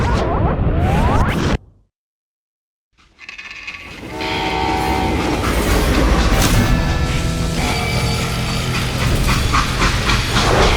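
A train in the Western video game Call of Juarez rumbles and clatters loudly with a blaring horn, breaks off into a brief silence, then returns as a sustained rolling, screeching rail noise.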